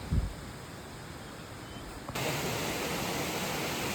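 Steady broadband roar of the Vyaghreshwar waterfall at Manche in Konkan during monsoon, constant and fairly close, growing louder partway through with a brief knock near the start.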